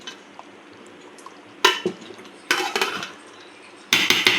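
A spoon clatters and scrapes against a metal pot while stirring ghee-fried ingredients into a gravy-like mixture, quiet at first, then three loud bursts of clanking strokes close by.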